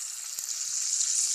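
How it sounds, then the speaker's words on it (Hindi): Fish frying in oil in a pan over a medium flame, Kerala-style masala fish fry: a steady, close hissing sizzle that holds even throughout, with no talking. "दूसरी तरफ से भी हमें इसको इसी तरह फ्राई कर लेनी है।"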